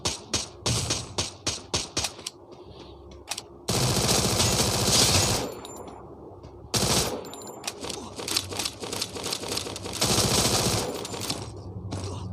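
Gunfire in a shooting video game, with rapid bursts of single shots, then long sustained automatic volleys separated by short quieter gaps, loud and close.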